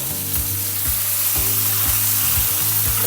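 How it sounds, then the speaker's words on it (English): A steak sears fat side down in a hot pan, giving a loud, close, continuous sizzle with bubbling crackle. "I'm gonna get a nice little sear going."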